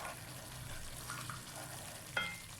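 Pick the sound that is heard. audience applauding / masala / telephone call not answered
masala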